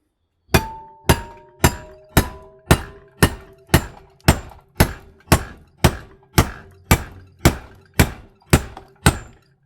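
A machete pounded again and again into a copper motor to cut it in half, about sixteen evenly spaced heavy metallic thunks with a short ringing tone, close and loud, no talking.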